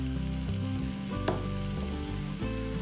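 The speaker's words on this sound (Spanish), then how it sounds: "el siguiente paso es mezclar el vinagre con el bicarbonato. Y cuando empiece a hacer burbujitas" Steady soft fizzing and crackle of vinegar mixed with baking soda for a red velvet cake batter, close and continuous with a faint clink partway through.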